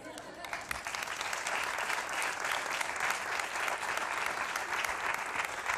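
A theatre audience applauding during a comedy monologue show, a thick, continuous wall of clapping from many hands, steady and fairly distant, with no pauses throughout.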